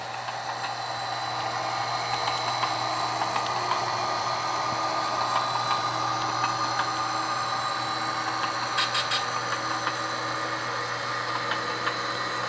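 An HO-scale style model locomotive runs along a layout track during a switching session, its dirty wheels making a steady, slightly uneven mechanical whir and hum with faint clicking stutters, continuous and close with no talk.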